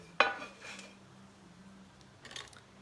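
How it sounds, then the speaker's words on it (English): An oven tray being handled for a baked Tuscan panzanella, starting with a sharp metallic clank up close, then softer shuffling and a faint scrape later, with no talking. "we take a tray for the oven"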